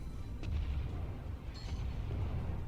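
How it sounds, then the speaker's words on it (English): Main guns of the battleship Kongo fire in the naval game World of Warships, a couple of sharp blasts over a steady low rumbling bed of distant booms. "And give him a taste of my guns."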